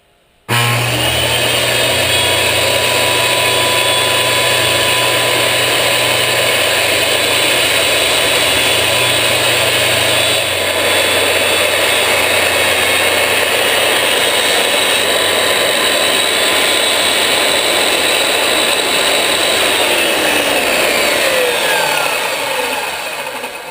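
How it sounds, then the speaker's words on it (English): Power saw running steadily and loudly, cutting a plywood panel guided along a straightedge made from another piece of plywood, a continuous whine lasting about twenty seconds before spinning down, with no talk, during a teardrop trailer build. "I've got another piece of plywood here as a saw guide, and I'm getting ready to cut."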